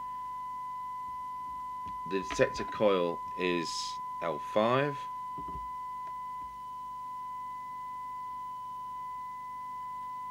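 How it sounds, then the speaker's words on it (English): A steady, pure sine test tone plays continuously from the speaker of a DNT M40 mobile CB radio during receiver alignment, holding level throughout while someone talks briefly over it. "I'm looking for the maximum sine wave."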